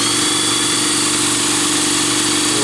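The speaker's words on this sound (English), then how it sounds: "I could spin the motor, and I can kind of watch what that is doing at 1700 RPM." A steady, even mechanical drone from a motor spun at 1700 RPM with its plugs removed, driving a rear wheel through a pulley, loud and close with a constant rhythmic hum and no talk.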